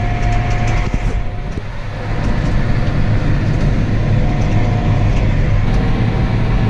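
A tractor with an IVT transmission running while planting corn after a triticale harvest, a loud, steady low engine rumble with constant mechanical drone and rattle, heard from inside or close by.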